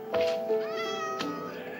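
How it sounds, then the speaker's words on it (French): Cats in Minecraft version 1.14 meowing, a couple of clear, close mews with rising and falling pitch. "Oh, mais ils sont trop mignons quand ils miaulent."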